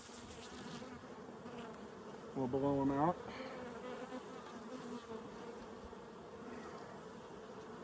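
Honey bees buzz around a backyard hive in Colorado during a harvest, a low steady hum with a brief louder burst from a blower, while someone speaks briefly.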